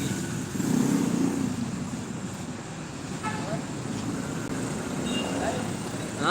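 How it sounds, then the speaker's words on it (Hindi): Gridlocked traffic on a Karachi street gives a continuous rumble of idling cars and motorcycles with engine drone throughout, while someone talks over it nearby. "और मुकम्मल तौर पर फुल जाम है ट्रैफिक"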